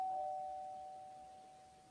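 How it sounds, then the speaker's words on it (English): A doorbell in a video game rings once with a clear sustained electronic chime, a steady bright tone that slowly fades over a couple of seconds in an otherwise quiet scene. "our negotiator fixes her hair and rings the doorbell"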